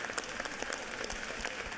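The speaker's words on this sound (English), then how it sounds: "Give them a big round of applause" Applause from the gallery of a state House chamber, a steady, moderately distant patter of many hands clapping without a break.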